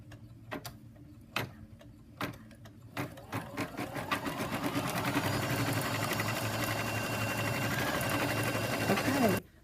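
An embroidery machine stitches through foam and backing held in a hoop, starting with a few separate thumps that speed into a steady, loud, continuous mechanical rattle close by, then stopping abruptly.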